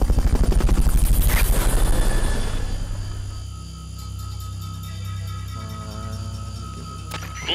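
A helicopter in the video game Metal Gear Solid thumps loudly with fast, rhythmic rotor chop, then fades to a lower whirring hum as game sound effects continue, with a sharp click near the end.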